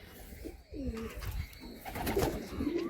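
Black pigeons coo softly and closely, several rounded, throaty coos following one another, a couple overlapping near the end.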